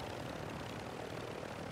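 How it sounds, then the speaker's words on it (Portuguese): A helicopter flies in the Modern Warfare III video game, a steady, droning rotor-and-engine rumble that holds constant across the moment with no speech over it. "Tem um helicóptero, esse aviãozão."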